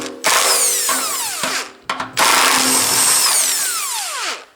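A power tool, likely an impact driver or drill, spins out 13 mm bolts from a washing machine being taken apart, in two loud close bursts of whirring with a short gap between them.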